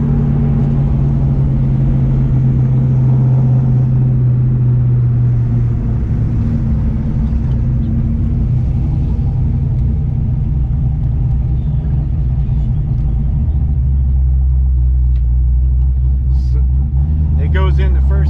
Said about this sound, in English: It goes into first gear really nice.